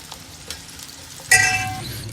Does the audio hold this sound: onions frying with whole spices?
yes